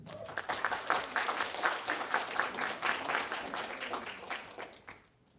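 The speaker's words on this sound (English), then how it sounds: "Let's give another round of applause to our TAs and student teachers and Aspiration Award winners" Audience at a youth awards ceremony applauding teaching assistants, student teachers and award winners; a steady round of many hands clapping at moderate distance, thinning and fading out in the last half second.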